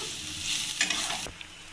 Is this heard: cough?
no